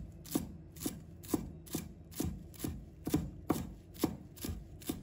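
A knife chops coriander into short pieces on a board, about a dozen crisp, evenly spaced thuds in a steady rhythm, close and clear with no talking.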